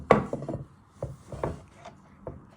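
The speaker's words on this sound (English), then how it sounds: "So you get another tomato. Carefully chop down the middle." A knife chops down through a tomato on a wooden board, several soft thuds and scrapes at an irregular pace, close and fairly quiet with no talk.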